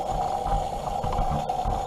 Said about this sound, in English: So the noise you hear is the starter still coasting down.